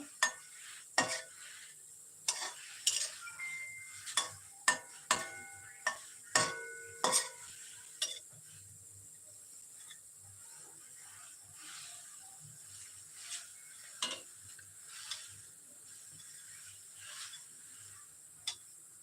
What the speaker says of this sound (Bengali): দু পিঠ বেশ ভালো করে ভেজে নিয়েছি